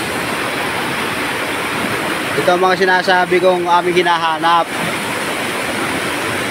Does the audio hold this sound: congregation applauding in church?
no